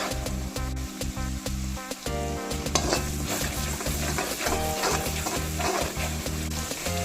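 Green chilies, ginger and garlic frying in a pan for a chicken roast, a steady crackling sizzle under repeated rhythmic stirring and scraping of a utensil against the pan, close and continuous with no talk.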